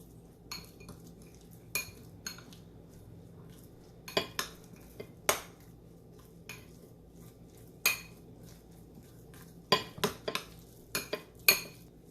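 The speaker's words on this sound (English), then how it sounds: "You can add 1 or 2 teaspoons of breadcrumbs and we can mix it." Beet and banana cutlet mixture being mixed with breadcrumbs in a bowl, heard as scattered metallic clinks and scrapes of a spoon against the dish, with short bursts and quiet pauses between them.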